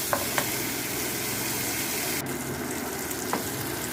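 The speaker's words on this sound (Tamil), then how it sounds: "இந்த பேஸ்ட் எடுத்து இதில் ஆட் பண்ணிக்கோங்க. கொஞ்சம் கொஞ்சமாக ஆட் பண்ணி நல்லா கலரி விடுங்க." Coriander paste sizzles in hot oil in a pan as it is stirred, a steady close crackling fry with a few faint clinks of the spoon and no voices.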